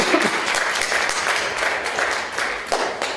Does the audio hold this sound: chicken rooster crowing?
no